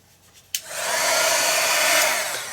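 A hair dryer blows over a mixed media artwork, switching on abruptly with a click and then running as a loud, steady whirring roar without any talk.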